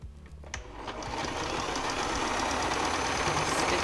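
A sewing machine stitching in the ditch on a quilt starts up after a few clicks and then runs in a fast, steady whirring rattle that builds slightly and continues to the end.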